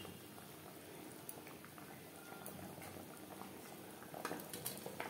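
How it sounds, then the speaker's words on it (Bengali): Gravy bubbles and boils in a pan, a faint continuous low simmer with small pops and patter, quiet throughout. "গ্রেভি ফুটে ওঠা পর্যন্ত অপেক্ষা করব"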